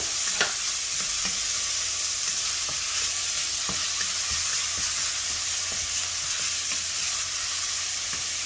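Chopped onion fries with cumin seeds in a pan, giving a constant close sizzling hiss broken by a few soft scrapes and knocks from stirring, steady and unbroken throughout with no voices.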